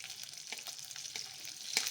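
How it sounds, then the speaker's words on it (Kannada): Garlic frying in hot oil in a kadai, a steady close sizzle with a few stirring scrapes and a brighter crackle near the end, no voices. "ಈಗ ಎಣ್ಣೆ ಕಾದಿದೆ. ಬೆಳ್ಳುಳ್ಳಿ ಹಾಕ್ಕೊಳ್ತಾ ಇದ್ದೀನಿ."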